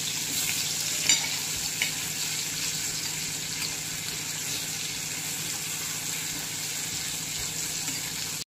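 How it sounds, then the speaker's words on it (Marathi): Fish frying in a few spoons of hot oil in a pan, a steady sizzle running throughout with a couple of faint clinks as the pieces are turned, no talking. "मासे छान फ्राय झाले. आता आपण मासे पलटून घेऊ."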